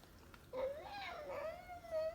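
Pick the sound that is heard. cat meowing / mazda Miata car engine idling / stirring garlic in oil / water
cat meowing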